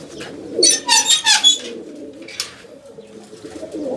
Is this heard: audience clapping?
no